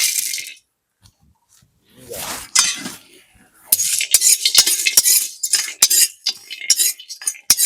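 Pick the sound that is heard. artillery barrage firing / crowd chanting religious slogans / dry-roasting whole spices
dry-roasting whole spices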